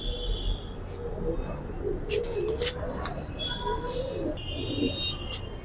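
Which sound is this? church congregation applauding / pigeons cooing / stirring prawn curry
pigeons cooing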